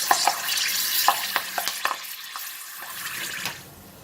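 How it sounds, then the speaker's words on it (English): Kaffir lime leaves frying in hot oil for crispy chicken wings, a steady crackling sizzle with sharp pops and spatters early on, gradually quieting as the bubbling settles. "I have a lot of kaffir lime leaves, so I'm going to fry a lot."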